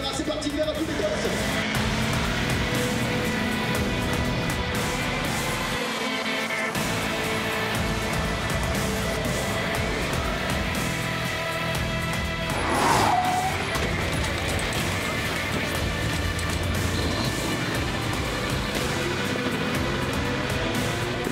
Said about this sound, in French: Les feux vont passer au vert dans quelques instants pour laisser place aux Laméras.